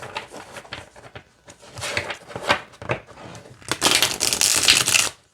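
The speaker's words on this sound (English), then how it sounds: "let's see how it shuffles" A new deck of Meryl Tarot cards being shuffled by hand, with irregular papery riffles and crunchy bursts that build into a loud, dense flurry near the end.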